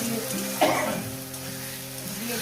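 Garlic and dried fish masala fry in a pan beside a river, making a soft, steady sizzle with a brief scrape of stirring. A low hum runs underneath.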